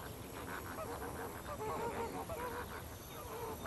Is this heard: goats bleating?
no